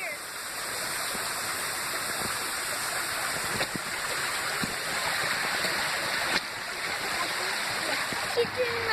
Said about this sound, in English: So our river flows all the way down the hill, down to the pond